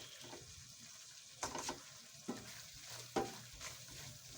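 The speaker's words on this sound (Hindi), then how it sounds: "अब मसालों की भी हम थोड़ी देर के लिए भुनाई कर लेंगे" Spices roasting in a pan for chicken kofta give a soft continuous sizzle, with a few sharper stirring scrapes rising briefly above it; one short spoken word passes quickly.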